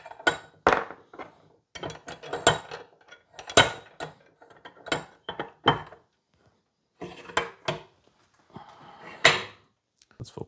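A wrench works on the nuts of a VW air-cooled engine block, giving scattered metallic clicks, ratcheting and clinks in short bursts with quiet gaps between, close and fairly crisp.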